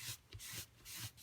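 A sanding block is rubbed over paper in quick, soft back-and-forth strokes. Several short scratchy swipes come in a steady rhythm, faint and close, with no talking.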